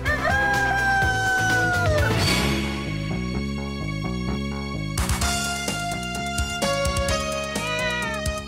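A rowdy rooster crows loudly and close, long drawn-out calls alongside a strong tonal musical backing, with another crow breaking in midway.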